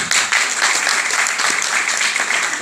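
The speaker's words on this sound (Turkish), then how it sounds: "bir alkış rica edebilir miyim?" Audience applause at a stand-up comedy show fills the room, a thick, even wash of clapping from many hands that holds steady throughout.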